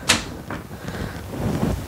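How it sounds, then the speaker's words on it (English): RV kitchen drawers in a 2021 Sandpiper 392FLRB travel trailer being pulled open and pushed shut, a sharp clack followed by softer sliding thuds and knocks, close and fairly loud. "Drawers."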